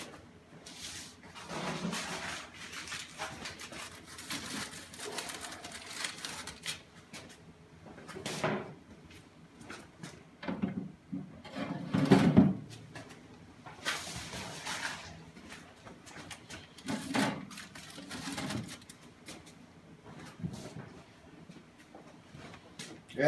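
Double foil-wrapped smoked ribs set back onto the racks of a smoker, then its door shut: a series of close clunks, knocks and scraping handling sounds spread over the clip, with one louder bump near the middle.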